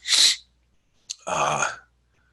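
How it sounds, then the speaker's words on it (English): A sharp, breathy sneeze erupts up close, followed after a short pause by a second wetter, longer sneeze-like burst. "Oh my gosh, I'm gonna sneeze."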